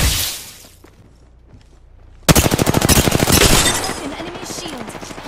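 Rapid automatic gunfire in the video game Apex Legends, a loud burst of evenly spaced shots that starts suddenly after a quieter stretch and keeps going to the end, with other game sounds mixed in.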